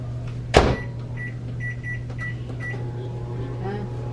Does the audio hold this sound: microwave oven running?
yes